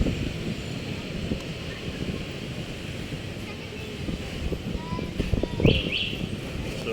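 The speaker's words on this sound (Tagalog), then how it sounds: "Lakas na hangin eh, no?" Strong wind roars and buffets the microphone continuously, a dense, rumbling rush with faint higher tones drifting through it, during a DJI Mini 3 drone test flight.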